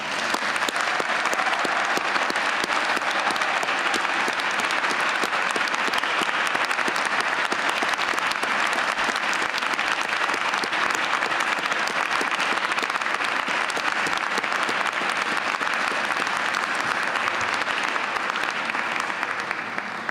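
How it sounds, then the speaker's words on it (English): Loud, sustained applause from a large audience at a university graduation ceremony, steady dense clapping filling the whole stretch with no voices standing out. "perhaps give you one last round of applause"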